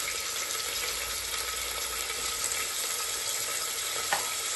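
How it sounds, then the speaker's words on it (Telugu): Onions frying in oil with turmeric and curry leaves, a constant dense sizzle close by with a single soft knock of the stirring spoon near the end. "ఉల్లిపాయలు వేసుకుని ఒకసారి కలిపేద్దాం"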